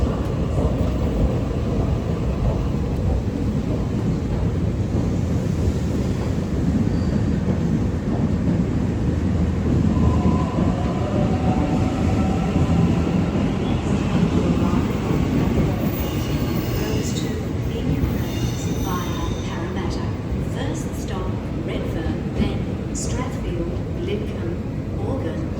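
A Sydney T9 electric train pulls away from a station platform, a long, loud rumble of wheels and rolling stock that continues steadily, with squeals and clatter late on and a person talking over it at times.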